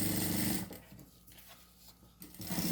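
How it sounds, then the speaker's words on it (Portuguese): A sewing machine stitches a seam along a thermal bag panel, running in fast close bursts of rapid needle chatter at the start and end with a quieter pause in between. "Passo uma costura aqui, ó, até onde a minha marcação vai."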